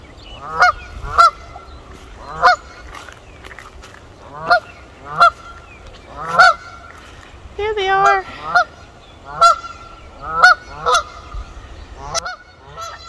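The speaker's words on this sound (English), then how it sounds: "2, 4, 6 little baby goslings." Geese by a pond near a nest of goslings give repeated loud, close honks, single and in pairs, spaced about a second apart, with a brief burst of overlapping calls midway.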